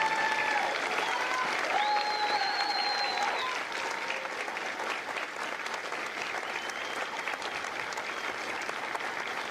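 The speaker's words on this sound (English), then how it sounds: "A round of applause for their dedicated service to foreign country." Steady, sustained audience applause fills a Marine Corps recruit graduation ceremony at MCRD San Diego, dense and even throughout with a brief tone-like sound early on.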